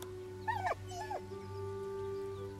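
The dog Scratch in Baldur's Gate 3 gives a couple of short, high, wavering whines close by early on, then falls quiet over a steady low game hum, no speech.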